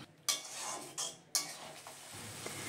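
Spices and potatoes are stirred in a frying pan for a cabbage fry, with three scraping strokes of a spoon against the pan over a faint sizzle, close up and quiet.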